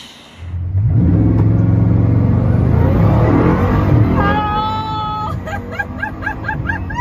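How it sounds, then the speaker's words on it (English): A naturally aspirated V16 engine of a 2025 Bugatti Tourbillon starts up and roars loudly nearby, a deep sustained growl that rises, then settles as higher whining tones and faint chatter emerge. "You're going to get like the raw thunder from the engine"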